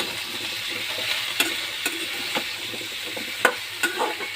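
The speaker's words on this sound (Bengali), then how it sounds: "এই দেখো তরকারিটা সুন্দর করে ভেজে নিচ্ছি।" A vegetable curry fries in a pan with a steady crackling sizzle, punctuated by several distinct spatula scrapes and taps as it is stirred, nearby and fairly loud, with no one speaking.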